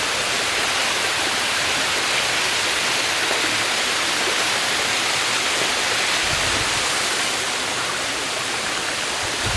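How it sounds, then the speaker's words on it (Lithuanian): Waterfalls in Bali roar as a steady, loud, broadband rush of falling water, unchanging throughout with no voices. "Užlipom į patį viršų, kur yra šitie kriokliai."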